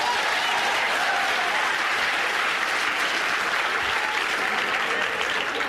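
A seminar audience bursts into loud, dense applause that holds steady throughout, with scattered crowd noise mixed in and no clear talk on top.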